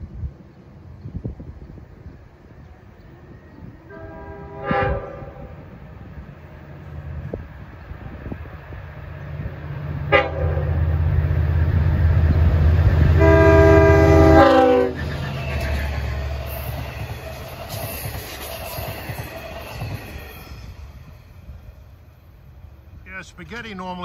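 An LIRR train led by DE30AC locomotive 402 approaches at Locust Avenue between Oakdale and Sayville, its horn blowing in several blasts over a rising diesel rumble amid wind noise, with a person talking.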